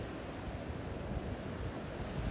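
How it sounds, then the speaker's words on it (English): Strong wind buffets an outdoor hillside tree plantation, a continuous low roaring rumble with gusty microphone noise and no speech. "it's windier than heck"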